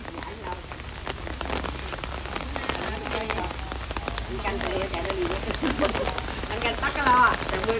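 Heavy rain falls steadily on surfaces during a storm in a rubber plantation, a dense continuous patter with scattered louder drops, and people talk faintly beneath it.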